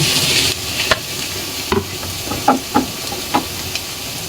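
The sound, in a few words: tomatoes added to frying egg, onion and chili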